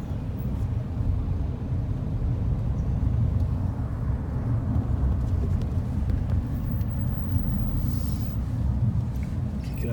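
An airplane passes high overhead as a distant, steady, broad low rumble that stays even for the full ten seconds, outdoors, with faint voices now and then.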